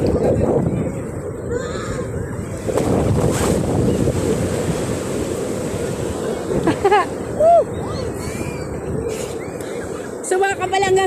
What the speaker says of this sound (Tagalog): So very big wave to push me.